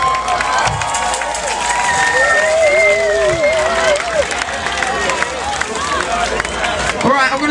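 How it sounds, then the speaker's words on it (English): A festival crowd at Kendal Calling in the UK claps and cheers loudly during a brass band set, with whoops and voices rising over the steady roar of applause. "please give yourselves a round of applause"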